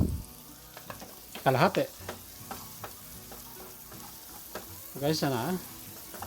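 White onions sizzle steadily in a pan for grilled fish sisig, with stirring scrapes and a person speaking briefly over the frying.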